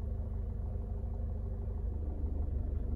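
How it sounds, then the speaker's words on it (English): A car engine runs as the clutch pedal is slowly lifted to the bite point, giving a steady, close, low rumble with no other sounds. "And you can just hear the engine note change."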